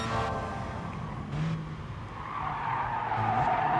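Tires skidding and squealing as a race car enters a corner too fast in Gran Turismo Sport, a steady screech over engine drone lasting the whole few seconds, with no talk.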